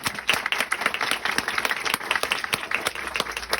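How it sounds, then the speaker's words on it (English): An audience at a bookstore author event claps for an author, a lively patter of individual hand claps from a modest crowd, close and fairly steady throughout. "Let's give her a round of applause for that."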